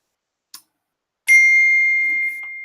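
A debate timer bell gives a faint tap and then one loud, clear ding that rings on steadily, fading only slightly over a couple of seconds in a quiet room.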